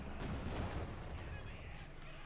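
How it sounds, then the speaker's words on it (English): Strafing run gunfire from aircraft in Company of Heroes 2, heard as a dense, rumbling barrage of rapid shots and blasts, loud and continuous throughout. "Quick strafing run here."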